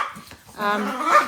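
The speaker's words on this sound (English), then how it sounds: "Sorry about my crazy dogs." Dogs bark and yelp close by in a brief, loud burst that rises into a whining bark, with a voice talking at the same time.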